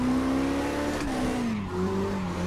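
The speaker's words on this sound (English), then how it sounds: "We're drifting with the G35, heck yeah!" A G35 drifting in CarX Drift Racing, its engine droning steadily at high revs with pitch shifts and a faint tire-squeal texture, loud and continuous with no talking.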